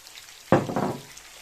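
Sausage pieces and onion dropped into a hot pan for a Ukrainian tokan with potatoes, giving one sudden close sizzle that flares up and then settles into a softer crackling fry within about a second.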